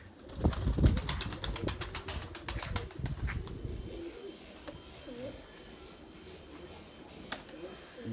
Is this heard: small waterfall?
no